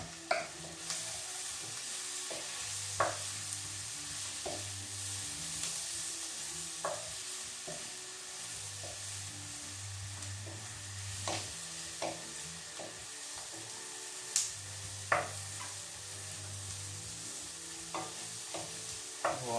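Mushrooms frying in oil in a pan for a courgette and mushroom creamy pasta, a steady close sizzle with occasional spatula scrapes and stirring knocks.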